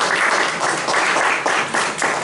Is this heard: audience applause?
yes